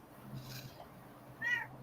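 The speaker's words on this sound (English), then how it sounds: "I have a very vocal, needy cat right here." A cat meows twice close by, a soft drawn-out call and then a brighter one, against quiet room noise.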